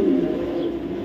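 A red checker male pigeon of an original Python bloodline coos in a low, steady, continuous murmur, close by and alone without voices.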